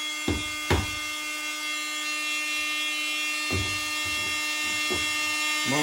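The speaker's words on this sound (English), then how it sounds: "So this is that Dremel Multimax." A Dremel Multimax oscillating multi-tool cuts into drywall during utility cabinet and receptacle installation, giving a steady high-pitched buzzing whine with a few sharp bursts near the start and another cluster later, sustained and close.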